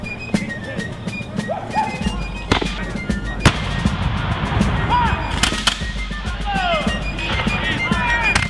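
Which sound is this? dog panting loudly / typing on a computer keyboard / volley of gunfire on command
volley of gunfire on command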